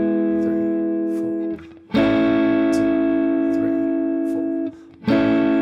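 Electric guitar strums the chorus of a song, sustained chords with effects ringing out in steady measures, a brief dip and restrike near two and five seconds.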